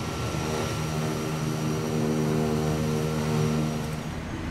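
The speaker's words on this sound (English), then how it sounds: "We'll keep everything at low idle for now." Kodiak floatplane's single propeller engine idling at low idle in a flight simulator, a steady close droning hum with a buzzy harmonic tone and a rough, even beat, holding constant without voices.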